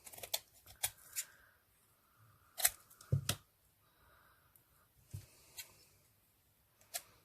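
Sharp scissors snip through ribbon trims for handmade hair bows, producing several quiet, separate cuts spread unevenly across a near-silent room.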